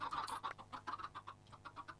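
Chickens in the video game Minecraft give a quick series of soft, rhythmic clucks, faint and even in spacing, with no voices over them.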